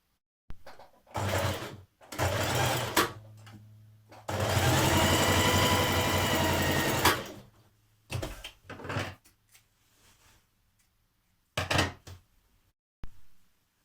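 A home sewing machine stitches the shoulder seam of a dress's facing pieces in several separate runs, a long steady burst in the middle and shorter stop-start bursts around it, close by with quiet pauses between.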